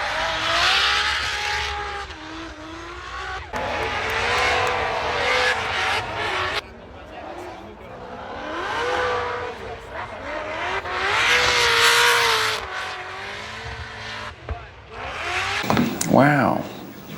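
Drift cars at a Formula Drift event, with engines revving hard and tyres squealing in long sliding bursts that rise and fade as the cars pass. People talk in the crowd over the noise.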